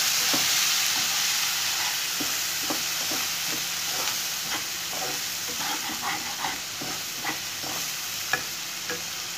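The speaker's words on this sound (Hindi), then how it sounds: "अब मैं ये जो मसाला था वो डाल दिया मैंने।" Spiced masala sizzling and frying in a pan with lightly browned ginger and garlic for a Bengali-style egg curry, a steady hiss with scattered crackles and occasional stirring scrapes, close and continuous with no talking.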